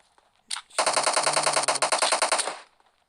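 Sustained automatic gunfire in the PUBG Mobile video game: a single short shot, then a long rapid burst of about two seconds, loud and close, with no talk over it.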